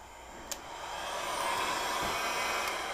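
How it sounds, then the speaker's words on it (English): A heat gun set on low blows steadily while warming a 2023 Goldstrike motorcycle frame, a continuous airy whir with a couple of faint clicks, close and alone. "I'm just going to take my heat gun,"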